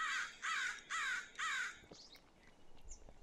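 Four loud crow caws in a steady, evenly spaced rhythm from birds in a Minecraft WesterosCraft sound pack, followed by faint scattered chirps and quiet ambience.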